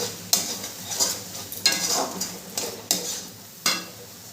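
Spice masala with Kashmiri chili powder frying for egg korma, a sizzling base broken by about six sharp stirring scrapes at a steady rhythm, close and clear.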